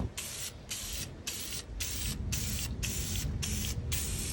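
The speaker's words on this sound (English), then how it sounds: "Now we're gonna apply the first coat of blue on the rears." Blue paint is sprayed onto the rear brake calipers of a kei car in a run of short, regular hissing bursts, each about half a second long with brief gaps between them, heard close up without any talk.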